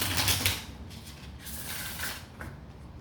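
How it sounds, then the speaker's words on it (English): Tarot cards being shuffled in a quick run of papery riffles and soft slaps, close and fairly loud, with no talking. "Do one more shuffle and then we will get into it."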